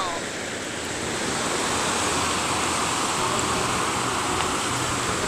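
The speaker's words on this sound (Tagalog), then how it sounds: "Ang lakas ng hagos ng alon." Strong sea waves surging onto a shore, a dense, continuous roar of surf that swells slightly and then holds loud and steady throughout.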